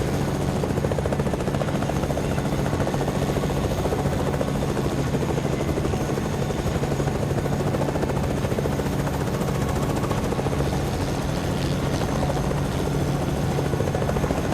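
A helicopter roars steadily overhead, its rotor and engine a constant, loud, broadband drone with no pauses.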